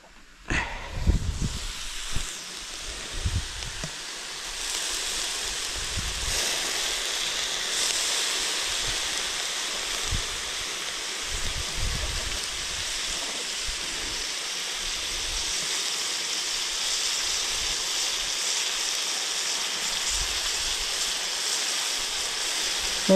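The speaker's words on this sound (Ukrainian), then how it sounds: "І тепер заливаємо це все теплою водичкою." Warm boiled water is poured steadily into a kazan of lamb plov cooking over a campfire, a continuous broad rushing splash that stays fairly loud and even throughout, with a few louder gurgles near the start.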